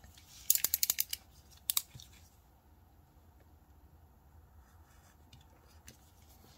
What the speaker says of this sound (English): Let's see how it cuts with an X-Acto knife.